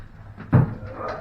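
A heavy melamine interior door is set into its frame during hanging, making one solid knock or thud over a quiet room.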